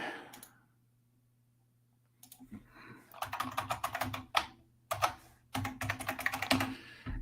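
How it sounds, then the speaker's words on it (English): Rapid, uneven keystrokes on an old-school clicky mechanical keyboard, typed in bursts close to the mic after a brief quiet pause, with a low steady hum underneath. "I love my old school clicky keyboard."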